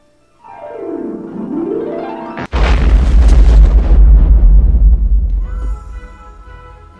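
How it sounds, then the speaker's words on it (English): A cartoon bomb hidden in an opened Christmas present goes off with a sudden loud boom, following a falling whistle and a sharp pop, then a long rumbling roar that slowly dies away. "That was really a bomb."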